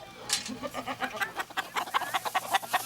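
Rapid, pulsing clucks from backyard chickens close by, a busy run of short calls with a faint voice in the background.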